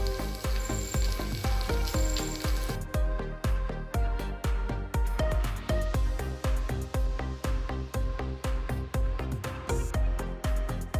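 Cooked rice is added to a pot of chicken biryani, with steady sizzling under a regular run of soft scraping and patting strokes that continue close and fairly loud.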